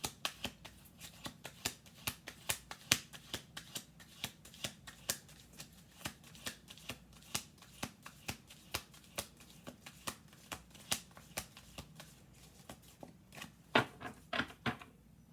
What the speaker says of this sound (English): we're gonna do one more shuffle